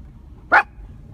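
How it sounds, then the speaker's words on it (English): A single sharp dog bark rings out once, fairly close, while a group meets dogs out on a walk on Black Friday, with a quiet background before and after. "The crazy dogs."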